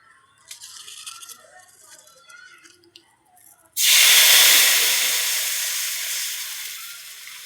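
A paste of tomato, green chili, poppy seed, mustard and melon seeds hits a hot pan and erupts into a loud, sudden sizzle that slowly fades to a steady hiss, after a few seconds of quieter kitchen sounds and faint voices.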